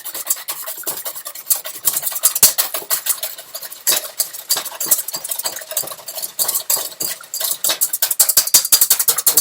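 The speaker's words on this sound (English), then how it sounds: "So now we're going to whisk those up." Three eggs being whisked in a bowl: a rapid, continuous clatter of utensil against the bowl's side, close and fairly loud, with an uneven rhythm and no voices.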